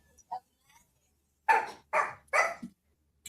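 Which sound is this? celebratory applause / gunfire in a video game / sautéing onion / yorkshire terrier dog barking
yorkshire terrier dog barking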